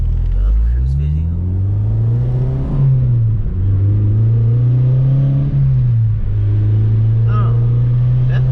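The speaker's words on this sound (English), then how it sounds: "You guys can hear my car." A car's engine and exhaust after an exhaust leak repair: a loud, steady, close low drone that swells slightly a few times, as if lightly revved, continuing throughout.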